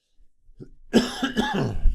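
A few harsh coughs close to the microphone, preceded by faint throat sounds, forming a short rough burst with no speech.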